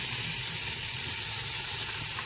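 Potatoes drop into hot oil tempered with green and dried chillies, bay leaf and cumin, giving a steady, close, loud sizzle and hiss for a couple of seconds.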